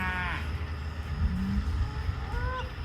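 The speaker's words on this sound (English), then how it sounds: "They're mooing for each other" Newly arrived cows on a farm call to one another, with a couple of drawn-out, moderately near moos at the start and end over a steady outdoor background and a low hum in between.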